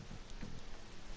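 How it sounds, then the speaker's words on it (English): Steady rainfall in the video game Persona 5 Royal, a soft continuous patter filling the background with no voices over it. "Rain, huh?"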